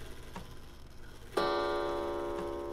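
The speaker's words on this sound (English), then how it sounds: "Oh, that's just the clock." Clock in The Very Organized Thief game: faint soft ticks give way to a sudden bright chime that rings out and slowly decays, with another tick after it, in an otherwise quiet room.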